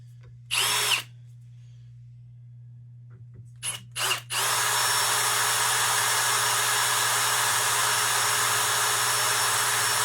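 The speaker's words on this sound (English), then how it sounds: "It just so happens your cordless drill is backwards" A cordless drill runs in reverse to spin a SeaDoo oil pump, first with a short burst and two quick blips, then a steady, loud continuous whine that holds to the end.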